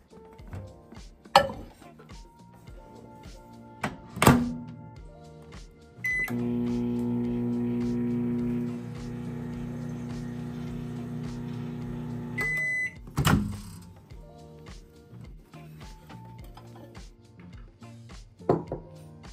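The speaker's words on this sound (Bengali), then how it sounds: "এবার এগুলোকে আমি মাইক্রোওয়েভ করে নেব 1 মিনিটের জন্য" A microwave oven heating cashews and raisins in ghee hums steadily for about six seconds, framed by clicks, clunks and short electronic beeps before and after the run.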